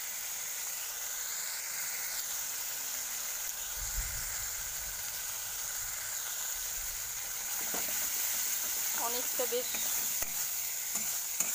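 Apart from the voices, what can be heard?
spice paste for pabda fish curry sizzling and being stirred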